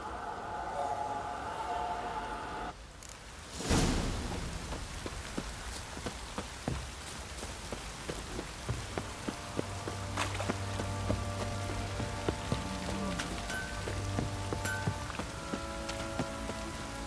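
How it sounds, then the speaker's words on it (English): A heavy downpour in The Witcher 3 roars steadily and evenly throughout, dense rain on surfaces with scattered sharp drips and faint footstep-like taps, continuous and without speech. "This downpour's a bastard, it is."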